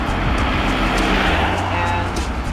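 A car passes on a road at night, a steady broadband rush of tyres and engine that holds loud throughout, with someone talking over it.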